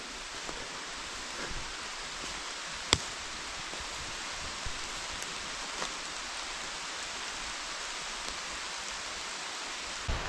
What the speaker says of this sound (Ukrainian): дощ такий вже прилічний йде